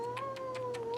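A cat meows in one drawn-out, wavering caterwaul, loud and close, with faint rhythmic scuffing underneath and no talk.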